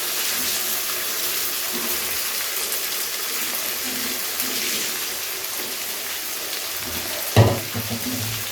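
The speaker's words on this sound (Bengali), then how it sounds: "এবারে পেঁয়াজটাকে হালকা বাদামি করে ভেজে নিতে হবে আমাদের" Thinly sliced onions, separated by hand, sizzle in a pan of oil as they fry, a steady close hiss with a sharp clatter near the end, and no voices over it.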